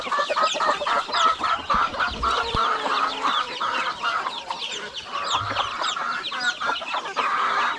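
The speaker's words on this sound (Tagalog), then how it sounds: "Sisiw ng pabo." A dense chorus of turkey chicks peeping and cheeping continuously, fairly close, with no talking.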